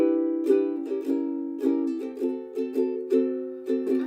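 A ukulele strums a quick run of chords, bright and close, each strum ringing briefly before the next in a lively rhythm.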